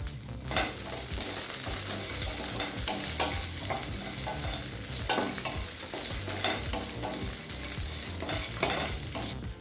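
Green chillies and garlic sautéing in a pan for chutney, a loud continuous sizzle with frequent scraping strokes of a spatula.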